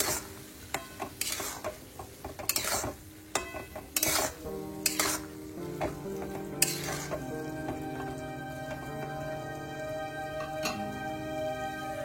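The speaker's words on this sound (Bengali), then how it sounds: "একটু নাড়িয়ে নিই।" Sugar and a pinch of turmeric are stirred in a cooking pan for a Bengali leftover-rice khichuri, giving repeated close scraping and clinking strokes of a utensil against the pan over a soft sizzle, with no talking.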